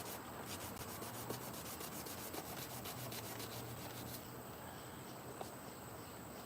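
Hand sanding with sandpaper on the painted front bumper of an SRT car, a faint continuous rhythmic rubbing scratch with rapid strokes, heard alone over a steady background hiss.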